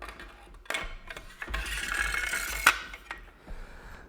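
KRG rifle mounts sliding onto a rail, giving a few close metallic clicks and scrapes with one sharp snap near the middle, short and moderately loud, with no talk.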